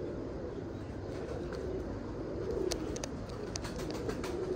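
Pigeons coo softly under a steady low rumble, with a few faint clicks and bird sounds toward the end and no clear talking.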